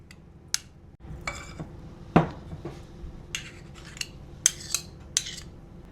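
Metal spoons scoop oat bran and date muffin batter into tins, making a scattered series of light clinks and scrapes, with one sharper knock near the middle and quick taps toward the end against a low steady background.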